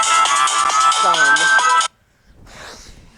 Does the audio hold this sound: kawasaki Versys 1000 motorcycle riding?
no